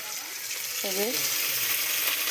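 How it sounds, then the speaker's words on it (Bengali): Ginger garlic paste hits a pan of browned onions in a little oil, making a constant soft frying hiss. A brief tonal sound rises once near the middle. "এবার আমি দিয়ে দেবো আদা রসুন পেস্টটা"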